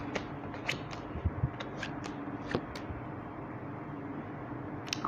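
A tarot deck being shuffled and drawn, heard as sparse soft card flicks and taps over a steady low room hum, with no voice.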